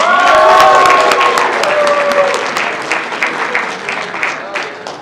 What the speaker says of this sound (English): now let's give another round of applause for our party